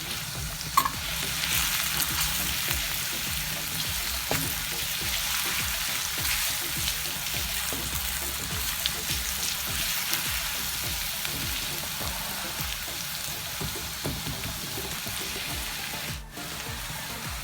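Garlic and cumin frying in oil in a home kitchen pan ahead of the minced meat, a steady close sizzle with soft stirring scrapes, no voices.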